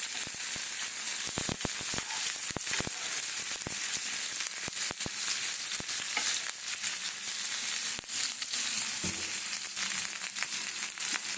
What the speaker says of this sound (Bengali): তেলটা আমার গরম হয়ে গেছে কিছু কাঁচা পেঁয়াজ দেবো